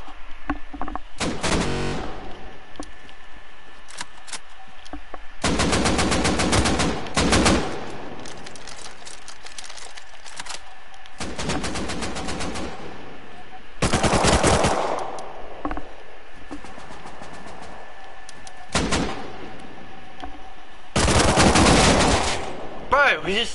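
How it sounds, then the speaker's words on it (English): Automatic gunfire from the video game Rust comes in repeated long loud bursts separated by quieter gaps, close and sharp, with a few single shots between them. "Oh, he's just shooting me. Fucking shoot the other cunt, maggot!"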